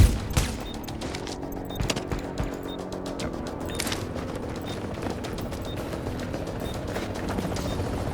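Rapid gunfire rattles in the video game Tom Clancy's The Division, aimed at a rogue player, with dense crackling bursts and sharp shots continuing steadily over a background of game noise.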